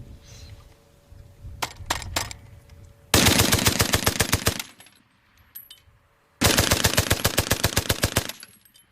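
A water-cooled World War I machine gun at the Somme fires two loud, close bursts of rapid, evenly spaced shots, each lasting a couple of seconds. Quieter metallic clicks and handling noises come before and between the bursts.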